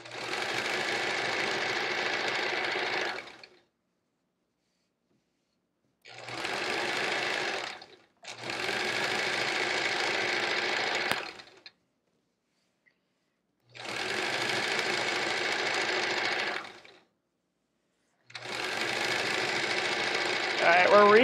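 Sewing machine stitching layered quilt fabric pieces for a Triangle Tango quilt, running in five long bursts of steady whirring separated by short pauses.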